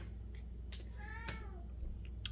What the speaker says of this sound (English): So you may or may not have heard my cat.